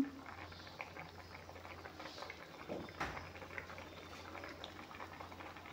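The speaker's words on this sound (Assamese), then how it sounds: "এয়া চাওক, ধুনীয়াকৈ আঞ্জাখন উতল আহিছে।" A pot of fish curry bubbles at a steady boil, a soft continuous burble and patter close by, with a low hum beneath and a brief clatter near the middle.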